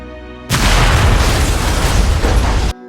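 A bomb strikes a family's home in war-torn Sokovia in a WandaVision flashback, a sudden loud, dense roaring blast that holds steady for about two seconds and then cuts off sharply.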